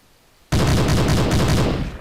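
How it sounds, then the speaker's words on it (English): A Browning machine gun in the Hidden and Dangerous 2 video game fires a loud rapid burst of rhythmic shots on a training range, starting abruptly after a brief silence and continuing steadily, no talking. "This is the Browning machine gun. It's a serious piece of hardware and deadly in combat."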